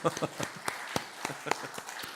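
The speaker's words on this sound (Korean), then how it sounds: "박수." A church congregation gives a brief scattered round of applause, the sparse, uneven claps sounding moderately close in a quiet room, with a few murmured voices underneath.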